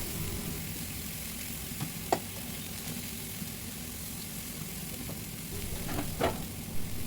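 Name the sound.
chicken with spices cooking in a pan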